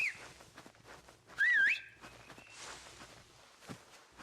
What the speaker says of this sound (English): We whistle spam as we run back toward this piece of sheet metal.